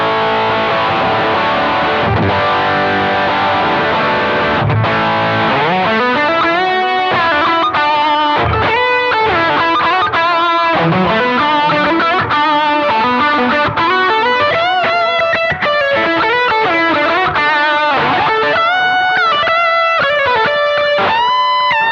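Heavily distorted electric guitar through a BOSS GT-1000 Core plays a sustained chord, then launches into a busy, driving riff of chugging notes and bends.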